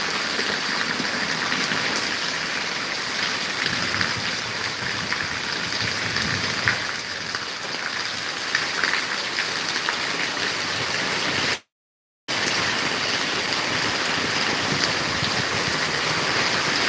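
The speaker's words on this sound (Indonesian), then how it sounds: "kembali lebat hujannya" Heavy rain pouring steadily in Padang, a dense continuous hiss and wash that holds at a constant loud level with one brief dropout near the end.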